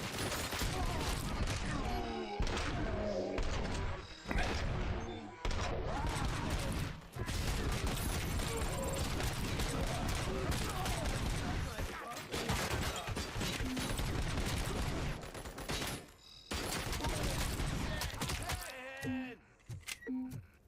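Heavy gunfire from a gun with strong recoil in Robocop: Rogue City, dense continuous bursts and crashing impacts filling the scene for about twenty seconds, loud and sustained with only brief gaps.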